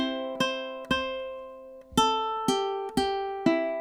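Ukulele picking through two measures of a song in steady time, about seven bright plucked notes and chords, close and clear with ringing sustain and no voices.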